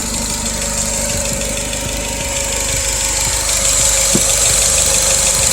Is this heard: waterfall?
no